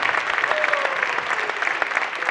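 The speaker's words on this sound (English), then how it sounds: "Now let's give one more big round of applause for all of our finalists." An audience at a high school sports showcase applauds its finalists with dense, steady clapping that carries on throughout, loud and without talk over it.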